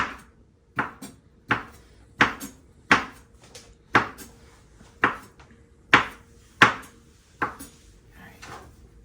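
Knife chopping through cauliflower on a cutting board, about a dozen sharp, evenly spaced knocks over nine seconds, close and clear with no talking.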